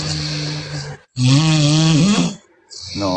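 A woman snoring during a livestream, loud and close, with two long rasping drawn breaths separated by short silences and a third starting at the end.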